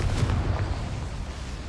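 A fire-blast spell in Hogwarts Legacy explodes with a loud, low, rumbling roar that stays steady and dense throughout the short moment, with no voices over it.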